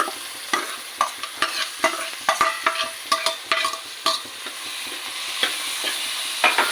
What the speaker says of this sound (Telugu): ఈ కాకరకాయ ముక్కలు మన బాండీలో వేసుకుంటున్నాం